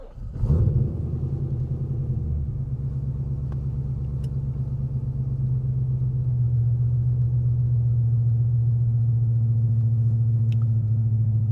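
A 2012 Corvette Z06 with a supercharged engine cranks and fires up cold, then settles into a deep, steady idle rumble that holds close and loud with no talking.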